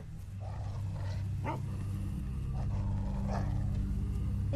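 A dog in The Walking Dead Season 2 video game gives several short, fairly close barks and growls over a low, steady rumble of ambient noise.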